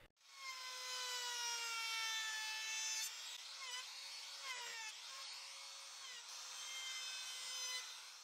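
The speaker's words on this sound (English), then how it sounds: "Still with the router, but now using this 25 millimeter chamfer bit, I'll remove these 2 corners that remained on this part." A router fitted with a 25 mm chamfer bit cuts the leftover corners off a piece of reclaimed wood, a loud, steady high whine whose pitch dips and wavers slightly as the bit bites, close and continuous with no talking.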